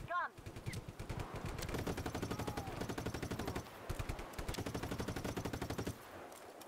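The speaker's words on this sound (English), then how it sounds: "Mounted gun! Get to the mounted gun!" A mounted machine gun in Just Cause 3 fires long rapid bursts of close, loud shots, briefly pausing midway before resuming, with a voice shouting faintly beneath the gunfire.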